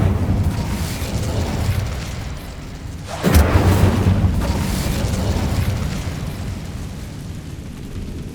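An Incendio fire spell blast in Hogwarts Legacy, cast inside an abandoned mine tomb, bursting loudly out of a low rumbling ambience and then decaying into a sustained roar, with no talk.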